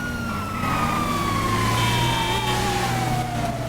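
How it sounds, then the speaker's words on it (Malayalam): An emergency vehicle siren wails continuously in a video game, a loud, close, steady tone slowly falling in pitch under a constant engine drone, with no talking. "ഇതിപ്പോ സൈറൻ ഉണ്ടല്ലോ ഓൾറെഡി."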